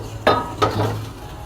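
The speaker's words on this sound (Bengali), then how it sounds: "আমি বাটিটা সাইডে রেখে দিলাম।" A bowl is set aside on a kitchen counter while aloo chops are being readied for frying, giving two quick, close clinks over a steady low background hum.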